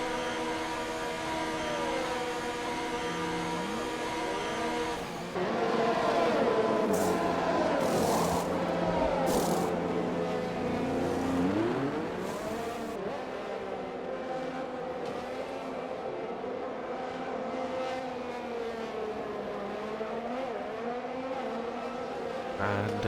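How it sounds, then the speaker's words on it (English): A Ferrari race car in a racing video game drives into the pits, its engine whining and shifting pitch, loud at first and then steadier and quieter as it slows, with other cars faintly around. "Ferrari driver is heading into the pits here."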